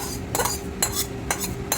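A spoon stirs coconut and shrimp into a pot of bean dal. It makes four short, evenly spaced scraping strokes over a steady low cooking hum, with no talking.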